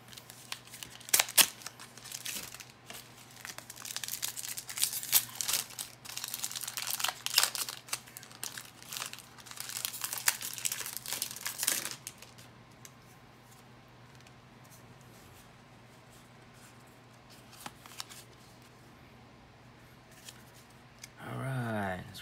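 A Pokemon Sword & Shield booster pack wrapper is torn open and crinkled in bursts of close foil rustling for about twelve seconds, then the handling goes quiet with light shuffling and a final crinkle.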